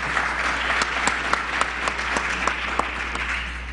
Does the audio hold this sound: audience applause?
yes